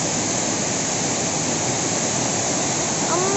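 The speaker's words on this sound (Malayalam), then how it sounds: "വെള്ളം ഇങ്ങോട്ട് തെറിക്കുവാ, മേല് മുഴുവൻ നനയും" A waterfall at a little-known site in Kannur district, Kerala, splashing near the listener, filling the air with a loud, steady, unbroken roar of rushing water.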